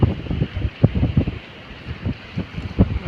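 Storm wind gusts at sea near sand-carrying boats, buffeting the microphone in loud, uneven bursts over a constant rushing roar of wind and water.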